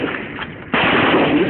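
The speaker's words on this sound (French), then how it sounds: "par petite rafale, commencez le feu." Gunfire in short bursts during a military firing drill at a training school in Niger, a loud sustained crackle of shots that starts abruptly partway through, close and harsh, with no talking.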